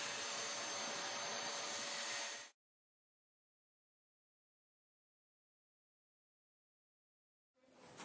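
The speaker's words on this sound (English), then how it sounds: "The suction on this Dyson was powerful." A Dyson DC23 Turbinehead canister vacuum runs with a loud, steady high whine and airy roar for a couple of seconds, cuts to silence, then starts up again at the end.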